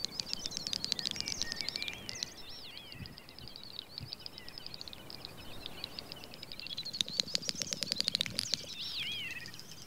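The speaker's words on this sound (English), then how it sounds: "It's the courtship song of the great snipe." A great snipe gives its courtship song on a wild moor at dusk. Rapid ticking clicks run together with high, fluttering whistles in repeated bursts, fairly faint and distant.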